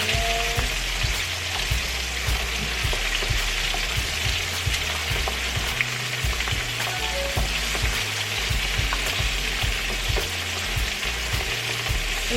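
Chicken pieces fry and sizzle in a hot pan, a loud continuous crackle with bursts of spitting oil and occasional stirring clatter, no voices.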